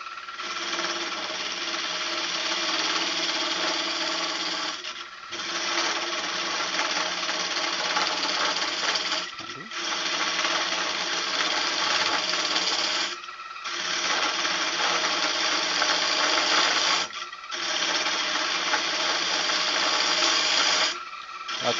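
Wood lathe turning a goblet, spindle pressed back into the headstock: a loud, continuous rasping whir of the tool cutting spinning wood, broken by four short pauses as the cut stops and restarts.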